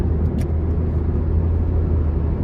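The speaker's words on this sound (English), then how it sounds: "we're gonna give it a little bit of gas here, getting on the interstate" A 2006 Nissan Sentra 1.8S Special Edition with about 110,000 miles accelerating onto the interstate, a loud steady low engine drone and road rumble from inside the cabin, with no talking.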